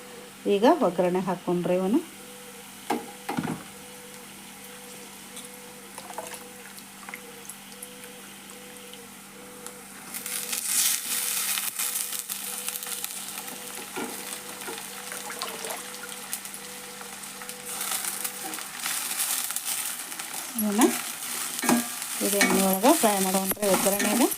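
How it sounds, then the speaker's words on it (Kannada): Sliced onions sizzle and fry steadily in hot oil in a pan while a spoon stirs them. A person talks over the sound at the start and again near the end. "ಉಳ್ಳಾಗಡ್ಡಿ ನೋಡ್ರಿ ಈಗ ಉಳ್ಳಾಗಡ್ಡಿ ಫ್ರೈ"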